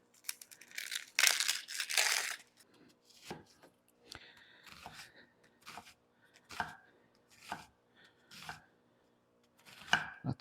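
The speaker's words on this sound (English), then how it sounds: "Let's go ahead and chop this one up too while we're at it." A knife chops vegetables on a board for a pot of goulash, making quiet, irregular crisp chops and scattered knocks close by. Nobody speaks.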